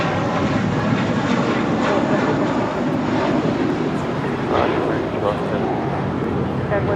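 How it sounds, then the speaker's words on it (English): American Airlines A321 jet departing Los Angeles International Airport for Phoenix, a loud, steady broadband engine roar filling the whole stretch, with a voice talking faintly beneath it. "And it's American 1270 departing to Phoenix on an A321"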